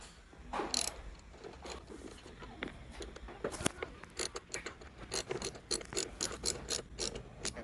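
A ratchet loosens the final screw on a Chevy HHR windshield wiper transmission assembly, giving close, crisp bursts of rapid clicking that come in quick repeated strokes with short pauses between them.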